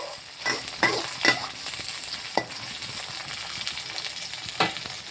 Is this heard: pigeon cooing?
no